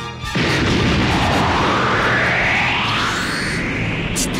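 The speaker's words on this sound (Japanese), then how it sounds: "ガウリー爆弾だぞ。" A big anime bomb explosion goes off suddenly, a loud booming blast that swells into a long roaring rumble with a rising whistle sweeping through it, close and filling the scene.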